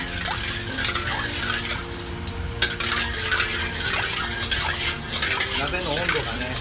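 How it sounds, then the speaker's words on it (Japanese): A pan is coated with oil before making fried rice with pickled plums and shirasu, a steady scraping and stirring of a utensil against metal with light clinks, close and fairly quiet, with little or no talk. "油をね、なじませますよ。"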